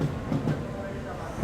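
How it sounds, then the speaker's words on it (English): A Japanese bullet train rides along with a steady, smooth rumble and faint rhythmic wheel clatter heard from inside the carriage. "Yes, that is a bullet train."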